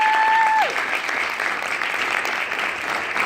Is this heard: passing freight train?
no